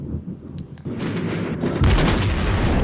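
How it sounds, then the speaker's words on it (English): Battleship guns fire in World of Warships Blitz, with a few sharp cannon reports followed by a dense, rumbling barrage that grows louder and more continuous toward the end. "And then I can start maybe getting some shots out at the Bismarck."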